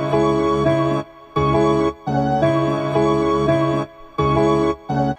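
Chopped sample pattern built with Fruity Slicer in FL Studio, a rich harmonic loop of sliced chunks separated by short gaps, playing loud and steady with a choppy stop-start rhythm and no voices.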